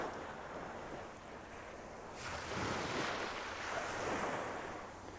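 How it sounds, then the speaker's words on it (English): Ocean waves wash onto a beach with a continuous hiss and roar that swells twice as breakers roll in, mixed with some wind noise and no talking. "really ocean waves are very healing for me on this journey"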